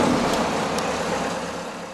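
Cessna C525 jet engine starting up in the Torquesim flight simulator game, a loud, steady broadband roar that holds evenly throughout with no voices.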